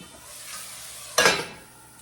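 Snake gourd and onion pieces frying in a pan, with a faint steady sizzle that swells into one louder burst of stirring and scraping near the middle before settling back down.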